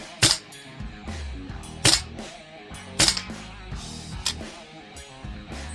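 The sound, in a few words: Tokyo Marui AKM airsoft rifle firing BBs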